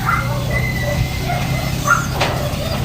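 A dog yips and whimpers in short, high bursts amid a steady background rumble, moderately close.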